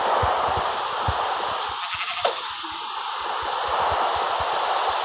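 A sheep bleats in a survival video game, a short call standing out against a steady wash of game noise and ambient hiss, with faint rhythmic thumps running underneath throughout.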